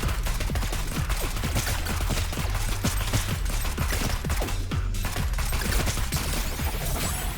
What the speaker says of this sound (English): I'm firing 4 piercing bolts per shot with high weapon damage